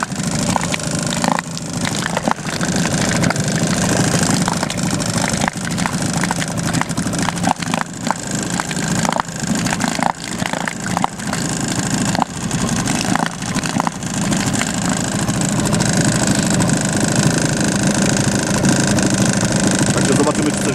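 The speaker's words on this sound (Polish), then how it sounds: "Silniczek, jak widać, chodzi pięknie." A small boat outboard motor from around 2006–2008 idles on a lake with a steady chugging rumble throughout, loud and close, while someone talks over it.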